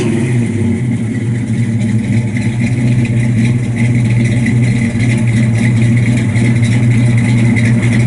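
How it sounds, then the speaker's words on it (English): A 1965 Pontiac LeMans convertible with a 4-speed sits idling, its dual exhaust giving a steady, smooth, low rumble with a slight rattle, close and continuous with no talk over it. "Got nice sound, dual exhaust all the way out the back."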